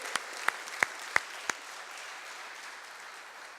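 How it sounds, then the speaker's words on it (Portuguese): Five crisp hand claps in a quick, steady rhythm at a church service, then nothing but faint room tone. "Podemos aplaudir o Senhor?"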